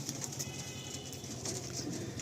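Young pigeons at a sale in Baruipur give soft, faint cooing over a low background murmur in a short stretch with no talk.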